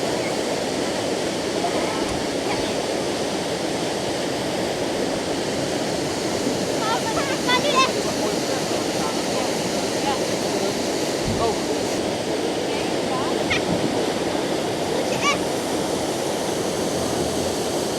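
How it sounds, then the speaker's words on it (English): Fresh mountain water pouring from falls into a Norwegian fjord near Flam, a loud, continuous broadband rush heard up close, steady throughout, with a few faint voices and clicks over it. "That's fresh water all the way up from the mountain, merging to the salt water of the fjord"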